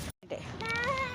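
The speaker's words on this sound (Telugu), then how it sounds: "ఆడ పిల్లి వస్తుంది" A cat meows near a family outing at a botanical garden, a rising tonal cry lasting about half a second after a brief gap, with voices and background chatter around it.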